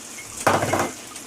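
Cashew nuts drop into a pan of softened cooked tomatoes, making one short, close clatter and rustle about half a second long in an otherwise quiet kitchen.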